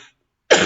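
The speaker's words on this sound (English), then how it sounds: "I wonder how you reacted when you heard me cough like that." A single sharp, close cough bursts out after a short silence during a morning prayer and reflection talk.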